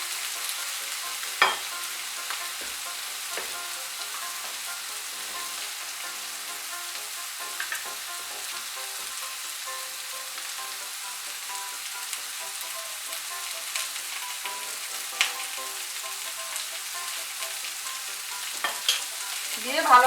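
Eggplant pieces sizzle in hot oil in a pan while being stirred, with a steady bright frying hiss throughout. Occasional scraping clicks from the stirring utensil sound close and clear, and no one speaks.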